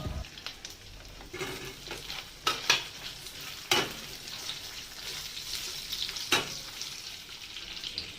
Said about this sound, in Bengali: এবারে দিয়ে দেবো কাঁচা আম,